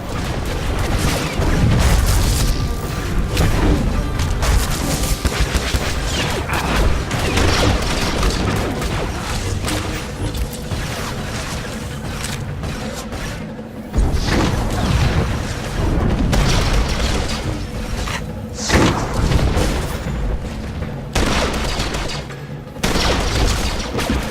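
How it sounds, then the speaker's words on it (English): Combat in Star Wars: The Old Republic, with a cryo grenade thrown at a trooper amid continuous loud booms, bursts and blaster-like fire, dense and sustained with brief drops in intensity. "he's tossing a cryo grenade at one of the other troopers so we can concentrate on the elite"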